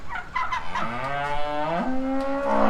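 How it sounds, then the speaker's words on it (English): Cattle on a farm moo loudly and continuously in long, drawn-out calls, one low bellow rising in pitch near the end, close to the listener with no talking. "There's cows running around."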